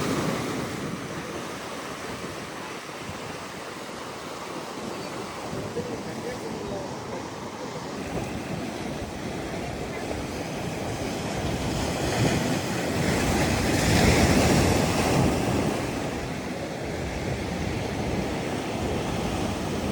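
Sea waves break against the rocky shore of a Pondicherry beach at sunrise, a continuous roaring wash that swells louder midway before easing back, with no break in the surf.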